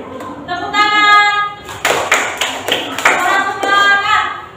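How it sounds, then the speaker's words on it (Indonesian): A classroom group bursts into applause, with clapping and rhythmic hand taps that follow a sung or chanted tone. Voices mix in with the clapping. "Tepuk tangan."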